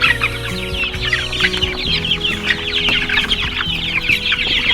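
Cornish cross chickens in a brooder cluck and chirp continuously as a dense, close flock, with overlapping calls and no talking.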